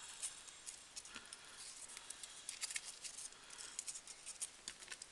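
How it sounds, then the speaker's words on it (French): Scissors snip through craft material for a children's recycled Mother's Day gift, a soft, close series of light cuts against faint background hiss. "je vais le couper un petit peu"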